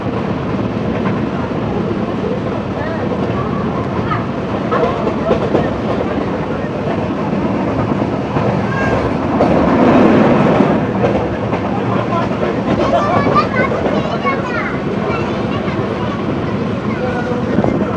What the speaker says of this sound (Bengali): এখন আমরা চলে এসেছি, এখন আমরা ট্রেনে আছি